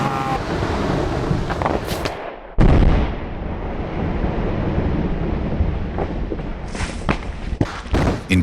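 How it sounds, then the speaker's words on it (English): Deep booming blasts and thuds of controlled explosions blowing up a landslide in California, with rumbling debris and flying rocks, loud and close, over steady wind buffeting the microphone. "authorities had to blow up a landslide to prevent danger. Loud explosions, flying rocks"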